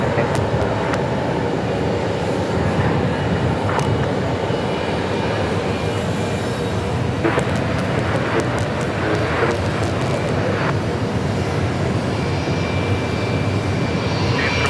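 An American Airlines Airbus A321 arriving from Chicago O'Hare lands at Phoenix Sky Harbor Airport, producing a broad continuous jet roar with rumbling and rushing noise that stays loud and steady throughout, no talking.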